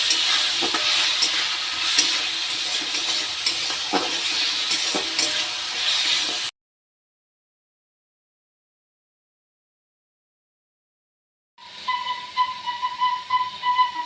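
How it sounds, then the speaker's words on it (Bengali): Vegetables with cumin powder and chili powder sautéing in a pan, a continuous close sizzle with light stirring scrapes, then a long stretch of silence before a louder, steamy bubbling hiss resumes. "তো সব রকম মশলা দিয়ে আমি সেটাকে ভালো করে এবার কষাবো।"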